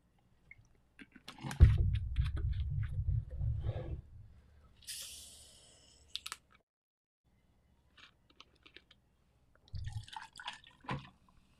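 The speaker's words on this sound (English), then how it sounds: "I gotta see if you can see how many drips I'm putting in." Liquid drips and splashes in short bursts, close by, with a longer pouring stretch early on and scattered isolated drips and clicks afterward, with no talking.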